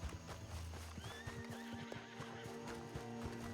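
A horse in Red Dead Redemption 2 on the WildRP server whinnies over a steady clip-clop of hooves, fairly quiet, with the hoofbeats running through the whole moment.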